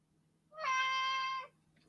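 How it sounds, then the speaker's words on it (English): A pet cat gives a single close, clear meow lasting about a second, alone against a quiet room hum. "my cat wants to say hello"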